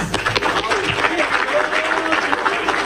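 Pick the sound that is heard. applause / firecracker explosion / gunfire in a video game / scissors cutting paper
applause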